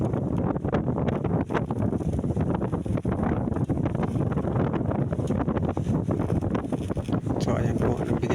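Strong wind buffets a small fishing boat at sea, a loud continuous roar with gusty rumble, and someone talks over it.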